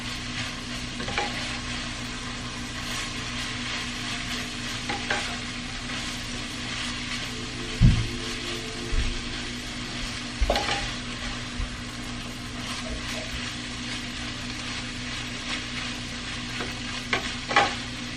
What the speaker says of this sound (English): Gonna continue to cook down that cabbage.